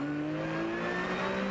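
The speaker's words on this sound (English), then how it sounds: "that's what Klosterman's aggressive braking looks like from behind" Race car on a circuit during a championship race at Jyllandsringen, heard from an onboard camera behind another car braking hard: steady, loud engine drone with a falling tonal pitch throughout, no talk.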